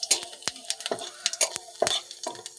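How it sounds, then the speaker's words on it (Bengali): Dried red chillies and cumin seeds crackle in hot oil in an Indian kadai, giving a crisp broadband sizzle with a string of sharp pops and spatters close up, with no one talking. "তার মধ্যে কড়ার থেকে গরম তেলের মধ্যে শুকনো লঙ্কা ও"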